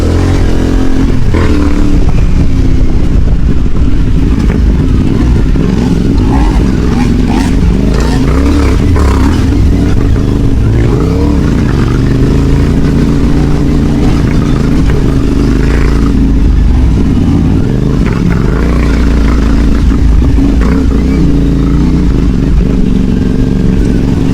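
A CFMOTO 450MT adventure motorcycle ridden off-road on enduro terrain, its single-cylinder engine droning steadily and loud throughout, with throttle swells and rough clattering over the ground.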